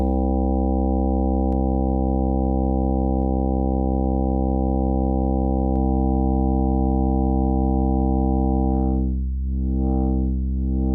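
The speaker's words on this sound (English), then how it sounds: "Making a square wave." A steady buzzy square-wave synthesizer tone holds, shifting pitch a few times, then a sweeping filtered wobble rises and falls near the end.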